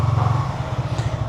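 A motorcycle in first gear rolls up into a house through an open gate, its engine giving a steady low idle-like thrum close by, with no talk.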